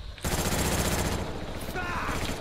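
Rapid automatic gunfire rattles in the Black Ops video game, a dense sustained burst of shots up close with a brief lull and more firing.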